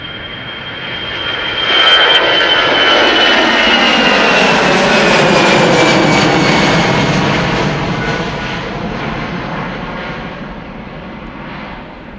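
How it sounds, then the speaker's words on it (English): A KLM Boeing 777-300ER taxiing along a connecting road at Amsterdam Schiphol, its loud jet whine and roar building quickly, holding strong as it passes close by, then slowly fading, with a high tone sliding downward throughout. "also coming this way is KLM flight 735, a 777-300 ER going to Willemstad, Curaçao"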